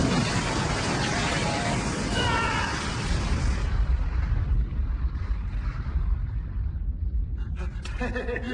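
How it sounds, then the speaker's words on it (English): A hand grenade explosion in an anime, a loud deep boom whose rumbling roar fills the first few seconds and then decays into a long, fading low rumble with faint debris clatter near the end. "He just blew himself up?"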